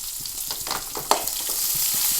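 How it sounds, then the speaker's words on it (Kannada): Chopped onions sizzle steadily in a pan for a Mangalore-style prawn sukka, with stirring scrapes and a sharp clack near the middle, close and even with no talking. "ಈರುಳ್ಳಿ ಹಾಕಿ ಒಳ್ಳೆ ಮಾಡಿ ಫ್ರೈ ಮಾಡುವ"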